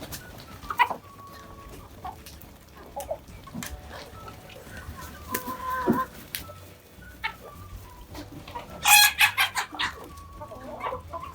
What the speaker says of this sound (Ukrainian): півні молоді в роботі працюють